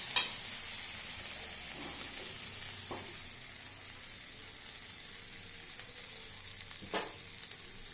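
Spice paste frying in mustard oil with cumin powder added, a steady soft sizzle with occasional louder spatters and stirring scrapes, close by, with no talking.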